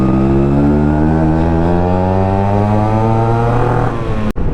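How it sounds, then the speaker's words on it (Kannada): A Yamaha RXZ two-stroke motorcycle engine drones steadily through its silencer on a long ride, loud and close, its buzzing note climbing slightly in pitch before a brief dropout near the end. "ಸೈಲೆನ್ಸರ್ ಸೌಂಡು ಜಾಸ್ತಿ ಏನಿಲ್ಲ, ಲಾಸ್ಟ್ ರೈಡ್ಗಿಂತ ಸ್ವಲ್ಪ ಕಮ್ಮಿ ಆಗಿದೆ"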